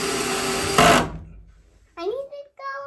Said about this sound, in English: You drill it in.